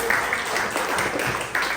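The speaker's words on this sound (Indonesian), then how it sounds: "Tepuk tangan untuk kita semua." A school audience at SMP Kanisius Wate applauds during a Christmas address, continuous scattered clapping filling the room at moderate loudness.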